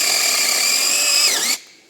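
An ABS cordless electric chainsaw cuts through aspen wood outdoors, a high steady whine that dips as the blade bites and then cuts off abruptly as the motor stops, loud and close.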